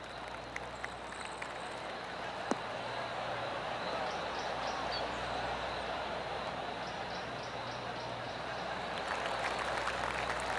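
Light, polite golf clapping from a crowd spreads through a steady broadband wash of ambient noise, soft and diffuse, with no talking, in the video game PGA Tour 2K24 at the John Deere Classic.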